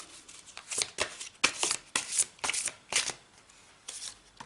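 A deck of cards is shuffled for a card reading: a close series of crisp riffling bursts with short gaps, fairly soft, with no talking.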